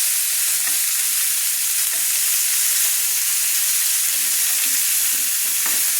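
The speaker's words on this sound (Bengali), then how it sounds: "আরেক পিঠ আমি ভেজে নিচ্ছি।" Chicken pieces for chicken changezi frying on high flame, a loud hissing sizzle that holds steady and close the whole time, with faint utensil taps.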